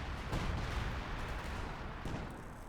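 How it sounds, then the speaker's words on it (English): Artillery fire in the World War II strategy game Company of Heroes 2, with heavy, rumbling low booms rolling over a dense, continuous background of battle noise, and two stronger impacts standing out. "Artillery raining down here."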